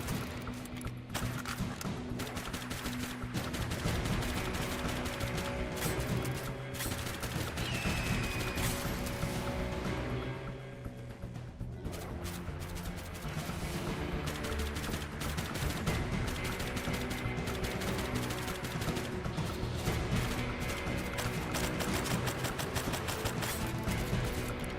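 Rapid gunfire in a zombie-outbreak shooter video game rattles steadily and loud over a continuous bed of game sound and music, with a short dip partway through before the shooting carries on.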